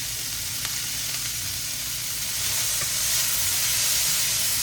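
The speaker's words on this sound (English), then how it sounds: "we're just going to continue to stir fry it until it gets to where we want it" Beef, peppers and onion stir frying in a pan with a ginger, garlic, pineapple and mango seasoning give a steady close sizzle and hiss, swelling a little louder toward the end, with faint stirring knocks.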